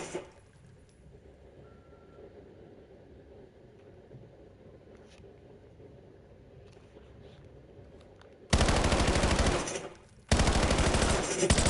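Rapid automatic gunfire at a Black Ops firing range in a video game, shooting at grates: two loud sustained bursts near the end, split by a short pause, after a stretch of quiet ambient room tone.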